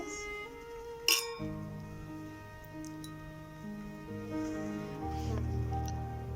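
Glasses clink together in a single sharp toast, loud and bright against a steady background of music, with soft talk nearby before and after.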